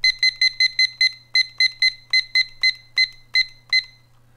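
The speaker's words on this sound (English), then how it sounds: "I'm setting a timer for myself." A timer beeps with about fifteen loud, sharp, double-toned electronic bleeps in quick bursts, irregularly spaced and close by, over a faint steady low hum, and no one talks.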